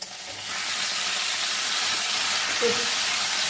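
Taro leaves dropped into hot oil tempered with nigella seeds, sending up a steady broadband sizzle that jumps in loudness as they go in and holds on, close and alone.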